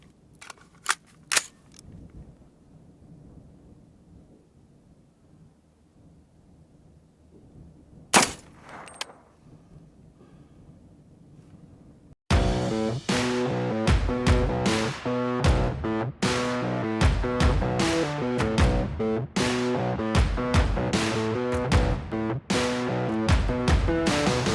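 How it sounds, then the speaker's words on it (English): An 8-inch AR-15 with a 1-in-7 twist upper fires .300 AAC Blackout 190-grain Hornady Sub-X subsonic rounds outdoors at a range: a few isolated sharp reports early, then a long rapid string of loud, evenly spaced shots. "We're going to fire it from an 8-inch AR-15.com 1-7 twist upper."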